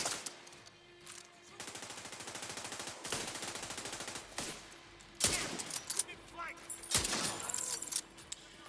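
Rapid automatic gunfire from a first-person shooter game, bursts of fire sustained over several seconds with sharp louder shots breaking through near the end, over a game soundscape with some voice in the background.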